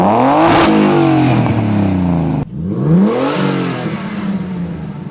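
A car engine with fuel cut disabled revs up and falls back repeatedly, rising and dropping whines in loud, close bursts, with a brief break midway before another rev climbs and settles.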